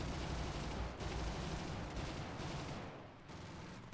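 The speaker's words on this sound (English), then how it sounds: "He's firing both cannons and machine guns." Cannons and machine guns fire nonstop in a simulator battle video game, a loud, dense stream of rapid overlapping shots that briefly thins near the end before surging again; no talking.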